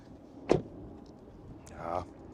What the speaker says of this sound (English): Then to the door closing sound.